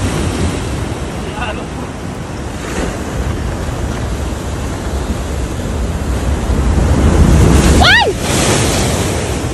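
Storm surge waves crash and roar against shoreline rocks during rock fishing, a loud continuous surf wash with wind buffeting the microphone, swelling to a heavy hit near the end while someone shouts briefly.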